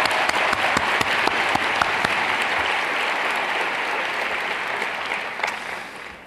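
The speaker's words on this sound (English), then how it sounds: "can you join me in just giving a round of applause to Cynthia and her team for making this such a big success?" A conference hall audience breaks into dense, steady applause that holds strong and then gradually tapers off over several seconds, with no voices on top.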